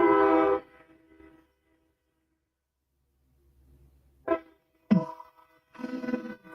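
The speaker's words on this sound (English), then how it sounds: "Are you trying to listen to the train?" A train horn sounds in long tonal blasts, fairly strong at the start and again in shorter bursts later, with a low rumble of the train passing between them and otherwise quiet gaps.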